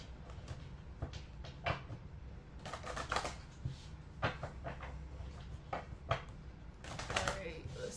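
Tarot cards being shuffled by hand: irregular bursts of crisp riffling and slapping card sounds, close up, with a voice talking in between.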